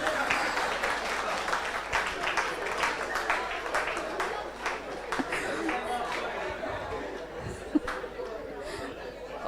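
Audience applause at a Diwali celebration in an Om Shanti retreat centre hall in Delhi, a steady spread of many hands clapping with crowd chatter mixed in throughout.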